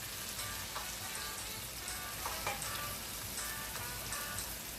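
Chopped tomato hits a hot pan of oil, giving a dense, continuous sizzle with scattered crackles and pops from close by, steady and loud, with no talking.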